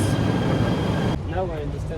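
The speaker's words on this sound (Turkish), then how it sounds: "mavi trene binmişiz" Metro train ride in Malaysia: a steady rumbling interior roar of the carriage in motion, with a tonal hum, shifting partway to quieter rolling noise as faint voices carry through the car.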